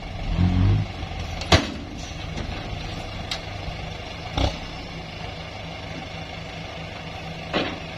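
A Kubota M8540 tractor engine runs with a steady low rumble, punctuated by several sharp metallic clunks and rattles as it is driven, fairly close and loud.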